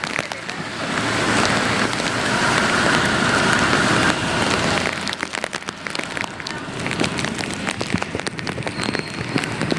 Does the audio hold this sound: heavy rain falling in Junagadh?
yes